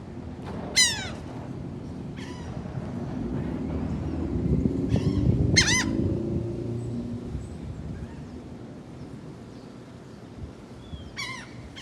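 Seagulls at a motel in Wildwood give several sharp, squealing calls as they are fed hashbrowns. The cries come in short bursts spread through the clip over a steady outdoor background.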